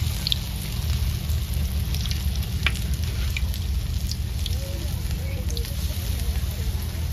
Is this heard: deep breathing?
no